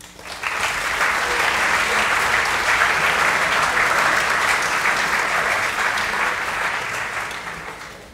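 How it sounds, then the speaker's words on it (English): A school morning-meeting audience gives themselves a round of applause: steady, full clapping that swells quickly, holds for several seconds, then tapers off at the end. "give yourselves a round of applause"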